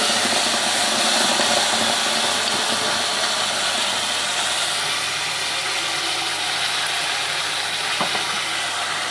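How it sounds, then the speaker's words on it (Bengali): Ground spice paste sizzles loudly and steadily in hot oil already tempered with cardamom, cloves and cinnamon for a Bengali prawn kalia. The sound is a continuous close hiss with no voices. "ফোড়নটা আমার হয়ে গেছে, আমি এর মধ্যে এবার বাটা মশলাগুলো দিয়ে দিচ্ছি।"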